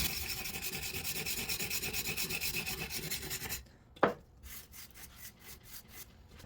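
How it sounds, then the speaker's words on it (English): A stiff brush scrubs wood stain on a concrete surface, giving a steady, rhythmic rasp of close strokes for several seconds. The scrubbing then turns quieter and more scattered, broken by one sharp knock. "we're going to try just a good old brush to see how deep into the concrete this really is."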